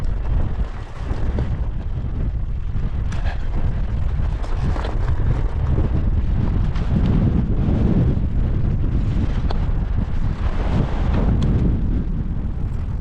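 Strong, gusty bora wind on the Karst Edge in Slovenia roars continuously and loudly, buffeting the microphone with deep rumbling throughout, no voices.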